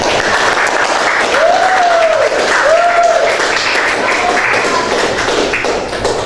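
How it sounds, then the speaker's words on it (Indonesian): A classroom group applauds for Sisya and Samkan, dense steady clapping that holds loud for several seconds with a voice speaking over it, tapering slightly at the end. "Kita beri aplaus dulu untuk Sisya dan Samkan"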